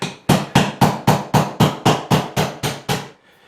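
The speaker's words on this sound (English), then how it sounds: "I am going to take a chisel and I'm going to hit it out here" A chisel is struck with a hammer to break out material during a recessed LED can light installation: ten loud, close, evenly spaced metallic blows in a steady rhythm, then a sudden stop.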